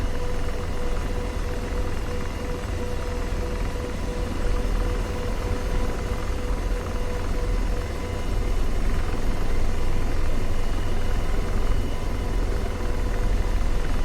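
Continuous low rotor rumble and engine drone of an Apache helicopter in the video game DCS, steady and fairly loud, with a faint tonal whine and no talking.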